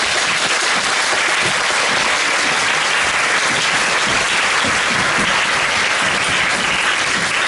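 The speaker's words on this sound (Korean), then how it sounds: "큰 박수로 부탁드리겠습니다." Theater audience at a Korean musical's post-show talk event applauds to welcome the cast, director and composer: a dense, steady wash of clapping that fills the whole stretch with no voices on top.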